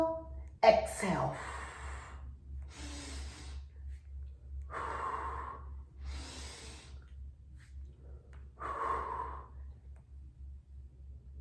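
Slow, rhythmic breathing during a Pilates-style exercise demonstration, several breaths in and out at steady intervals, close and fairly soft over a low steady hum, with no talking.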